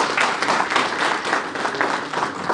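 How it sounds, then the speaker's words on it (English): Conference attendees give a round of applause after a presentation, many hands clapping in a full, slightly uneven patter that swells and eases over a couple of seconds. "Once again, a round of applause."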